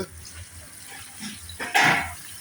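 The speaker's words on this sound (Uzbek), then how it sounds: "yaxshilab qovurilgandan keyin suv quyilyapti" Quiet background, then a sudden splash and sizzling hiss near the end as water is poured into a hot frying pan of well-fried food for Uzbek gazhi-guzhi.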